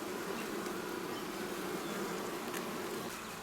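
Honey bees hum in a dense, steady, continuous buzz at an open hive, close and even in loudness throughout, with no voices.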